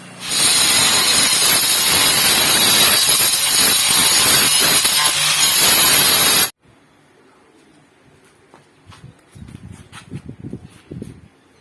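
Drill boring through the wall of a clay jar being made into an oven, a loud continuous grinding whine that cuts off abruptly, followed by quieter scraping and handling noises.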